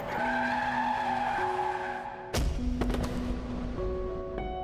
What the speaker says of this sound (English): The whine of the brakes let in a grating shriek.